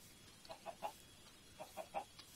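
Soft Minecraft chicken clucks come in two quick groups of three, faint against a low background hum.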